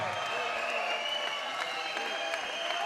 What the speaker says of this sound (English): big round of applause for your winner, the Flame, Steve Baldacchino